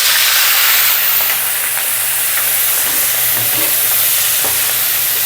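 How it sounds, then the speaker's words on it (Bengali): Chopped onions and chilies frying in a pan for a pointed gourd (potol) dorma curry give a loud, steady, close sizzle and hiss that holds for several seconds without a break. "পেঁয়াজ মরিচ সুন্দর করে বাদামি কালারে ভেজে নিব।"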